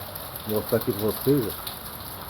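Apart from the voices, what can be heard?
heavy rain falling in the morning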